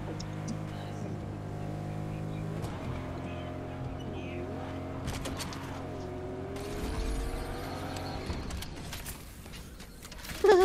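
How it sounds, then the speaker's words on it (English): In Fortnite, a car engine drones steadily nearby with a sustained mid-pitched hum that shifts slightly in pitch, running continuously under other game sounds and rising briefly in loudness near the end. "Oh, I hear another car."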